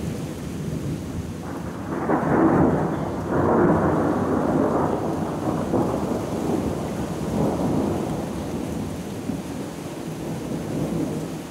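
Rain falls steadily on a forest, a dense broadband hiss with low rumbling swells, close and continuous throughout with no voices.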